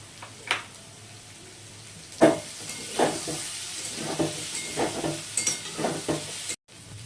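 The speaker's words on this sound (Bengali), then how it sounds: "এবার মোটামুটি ভাজা হয়ে গেছে আমি সয়াবিনগুলোকে তুলে নিচ্ছি" Soybean chunks frying in oil in a pan, a steady close sizzle broken by several sharp scraping stirs of a spatula, with no talking.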